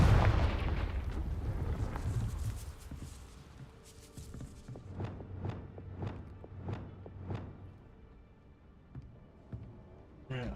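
A Confringo fire spell blasting in the Hogwarts Legacy video game, a booming burst followed by a run of sharp rhythmic cracks, with a faint voice underneath.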